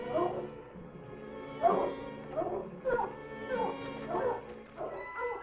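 Dogs in the 1959 horror film Attack of the Giant Leeches, several barks and whimpering yips in a rhythmic run, moderately loud over a low background.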